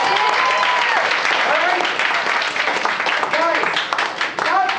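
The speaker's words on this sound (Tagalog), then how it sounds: "Pumalakpak na malakpak." A crowd at a business presentation breaks into sustained, dense applause, loud and continuous, with cheering and shouting voices rising through it.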